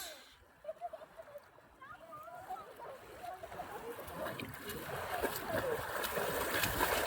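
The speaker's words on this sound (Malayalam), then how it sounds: "മുത്തു നീന്തി വരുന്നു" A child swims through a pool alongside lifeguards, with splashing that starts faint and broken and builds into steady, continuous churning water nearby; people talk over it.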